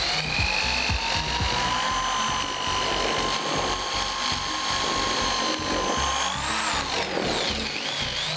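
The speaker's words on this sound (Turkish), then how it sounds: "Ve onu da bu saplama adaptöründen yapacağım. Saplamaları birbirine bağlamak için kullanılan bir tür cıvata aslında. İçini biraz genişletiyorum." A power drill or rotary tool bores out the inside of a steel stud coupling adapter, a loud, continuous grinding whine with a rattling metallic chatter that shifts pitch near the end, with no speech.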